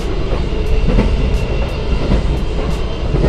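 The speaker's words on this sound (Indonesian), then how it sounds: "kereta eksekutif tahun 2017 ini diproduksi oleh Inka" An Inka Madiun-built 2017 executive carriage on the Purwojaya service rolls along the rails with a loud, steady rumble, heard from inside, with faint rhythmic wheel clicks over the track joints.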